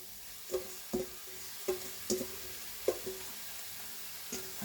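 Pork and vegetables fry in a pan with a soft, steady sizzle, broken by about eight distinct scraping stirs of a utensil at irregular intervals, fairly quiet and with no talking.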